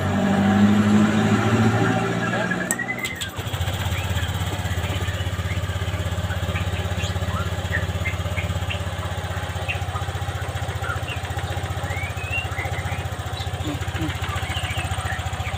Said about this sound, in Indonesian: coba kita hidupkan mesinnya